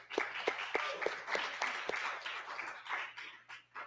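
An audience at a public talk on the political economy of Muskrat Falls gives faint, scattered applause, with individual claps sounding irregularly for several seconds in a quiet room.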